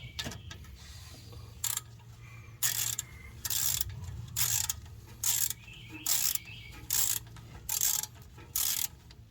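A rear brake caliper bolt on a 2012 Ford F250 is snugged up with a ratchet, giving about ten loud, close bursts of rapid clicking separated by short pauses, with no speech.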